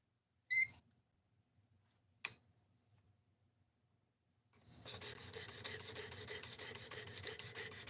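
A blade is sharpened on a sharpening jig with a steady, close rasping grind that starts after two sharp clicks and then continues evenly to the end.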